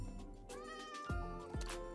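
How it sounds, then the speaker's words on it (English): A cat in a Minecraft cottagecore game meows in short, clear calls, several close, distinct mews in quick succession with no talking over them. "I've got distracted because look, there's a cat"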